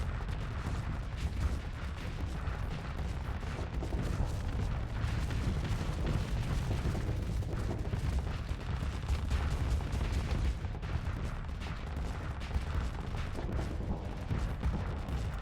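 Thermal cannons fire continuously in a Starsector space battle, a dense rumbling barrage of booms and impacts that stays loud and churning throughout.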